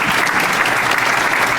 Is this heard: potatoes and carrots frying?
no